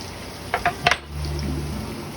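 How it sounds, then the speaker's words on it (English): Onions drop into a hot cast iron pan with avocado or olive oil, a couple of clattering taps followed by a steady low sizzle of frying, no talking. "You're gonna take the onions, plug them into the pan"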